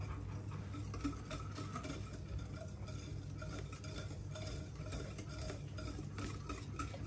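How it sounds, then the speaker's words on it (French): Cake batter with oil is mixed in a bowl, giving a quiet, steady rhythmic whisking and scraping with faint clinks, fairly soft and close, and no talking. "Là, je mélange après avoir mis l'huile."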